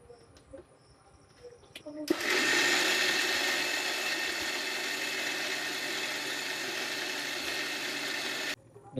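A mixer grinder whirs into action, grinding ingredients for a dosa batter in a home kitchen; after some quiet handling noises it starts abruptly with a loud, steady motor whine, runs evenly for several seconds, then cuts off.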